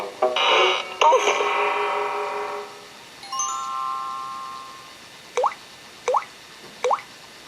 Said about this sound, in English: Even the kitchen tap won't stop dripping, said Pooh to himself.